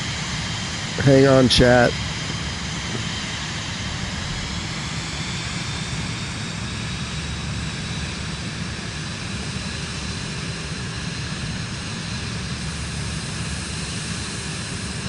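Aircraft engine at takeoff in Microsoft Flight Simulator 2024, a steady, continuous drone and whine holding at even loudness, with a brief spoken remark near the start.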